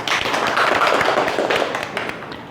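A classroom group applauds together, dense rapid hand claps at close range that fade slightly toward the end, with little talk underneath.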